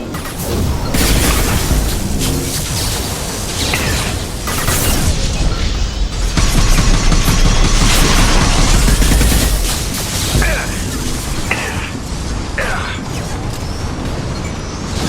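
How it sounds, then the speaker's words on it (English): Flashbang grenades bursting amid a loud, continuous firefight in the video game Mass Effect 2, with dense gunfire, booms and crashing impacts packed across the whole stretch. "Watch out, flashbangs!"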